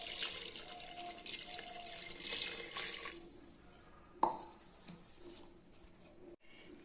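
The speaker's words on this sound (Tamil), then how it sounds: "இப்போ நம்ம தண்ணி ஊற்றிக்கலாம்." Water being poured into a pot of bottle gourd dal gravy in a home kitchen, a steady running splash lasting about three seconds before fading to quieter trickles and a few small knocks.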